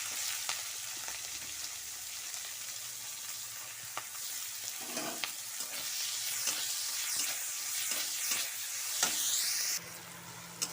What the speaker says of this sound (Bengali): পেঁয়াজটাকে লাল লাল করে ভাজা হয়ে গেছে